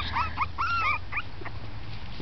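Pekingese-Yorkie puppies, six weeks old, whimpering and squeaking in short, high, wavering cries, several overlapping close by, fading into quieter background noise.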